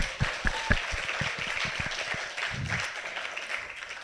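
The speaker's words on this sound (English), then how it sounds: "please give our speakers a warm round of applause" An audience at a university lecture session applauds its speakers, a moderately loud spread of clapping with a few sharper close claps at the start, gradually thinning and fading toward the end.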